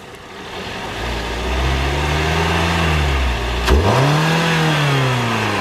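A 2015 Mitsubishi Lancer GT engine revs up loudly and holds, briefly dips with a sharp whooshing blow-off, then climbs again, heard close with no talking.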